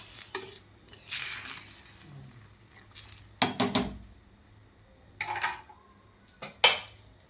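Sprouted legume curry (usal) stirred in a pressure cooker pot after water and salt go in, a few scraping and clinking spoon strokes with pauses between, close and moderately loud.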